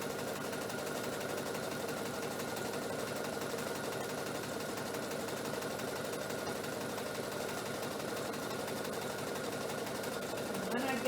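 A sewing machine stitches quilt blocks for a diamond pattern, running in a continuous fast mechanical whir with a rapid steady needle rhythm. The sound is close and fairly quiet, and it ends with a brief change near the close.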